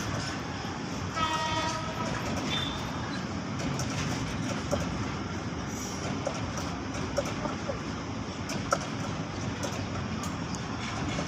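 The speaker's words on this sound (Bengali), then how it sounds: "এই ট্রেনটা বিশাল বড় ট্রেন ছিল" A very large train passing close by, continuous loud rumble and rattling of wagons with a brief horn tone near the start and sparse clanks over the roar.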